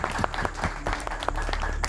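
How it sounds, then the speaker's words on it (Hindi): Studio audience applause in a live Hindi talk show studio, a short patch of scattered, crisp handclaps over a low rumbling background. "तालियों के साथ इसका स्वागत होना चाहिए"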